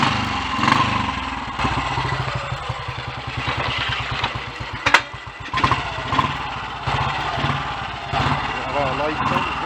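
A Royal Enfield Clipper 250 single-cylinder motorcycle pulls under load on a hill climb through a village, its engine thumping steadily and loudly throughout with rising and falling revs, while the rider talks over it.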